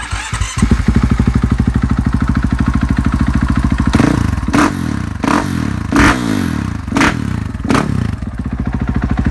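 A 2017 KTM EXC 450 Six Days enduro motorcycle idles with a steady thumping single-cylinder beat, then gets blipped through several sharp throttle revs in quick succession. The sound is loud and close, with no talking.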